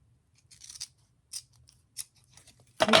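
Scissors trimming a small bit of thread or fabric up close, several quiet, crisp snips spaced out, ending in a louder rustle.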